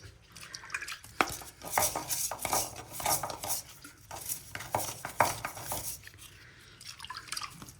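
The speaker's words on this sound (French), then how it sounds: "Moi j'utilise une balayette." Hand brush scrubbing old cast iron pipe while it is washed: busy, close scratchy brushing with wet, dripping clatter, fairly quiet and continuous, with no voices.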